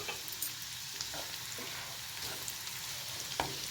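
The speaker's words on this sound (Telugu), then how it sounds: "ఇవి దూరగా ఫ్రై అయ్యే వరకు వేయించుకోవాలి" Onions frying steadily in a pan for chicken gravy curry, a continuous hiss with a few soft scrapes of stirring, close and fairly quiet.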